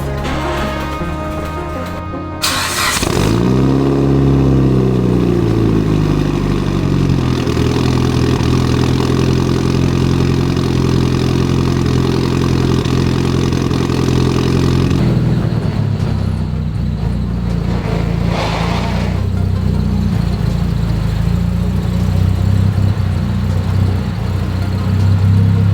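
Mitsubishi Evo 8 engine with a newly fitted short shifter, heard up close as it starts and then rises in a long steady rev while pulling away, before settling into a lower, even drone as the car drives on.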